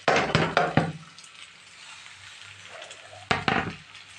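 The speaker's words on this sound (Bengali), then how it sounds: "পেঁয়াজটা লঙ্কাটা ভালো করে ভেজে লাল লাল করে নিয়েছি। এবার ভাতটা ঢেলে দিয়ে দেবো।" Cooked rice is tipped into a pan of red-fried onion and chilli to make fried rice, with sharp scraping clatters of a spoon against the pan at the start and again near the end, and a soft sizzle between.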